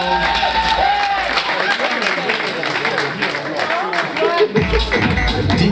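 A crowd at a fashion ball runway show claps and cheers for a walker in a continuous, dense burst of applause. It is mixed with crowd noise and a voice calling out over it.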